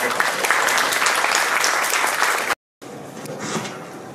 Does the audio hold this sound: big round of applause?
yes